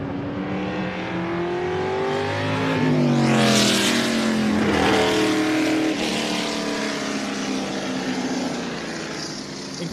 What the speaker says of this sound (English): Here's a look at that F5000 car of Allenser Sr. And you can hear its Can-Am roots as it thunders away.